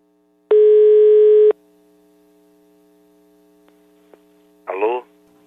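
One long electronic telephone ring tone, about a second, sounds on a call line over a low steady hum, followed by quiet line noise and a brief voice at the end.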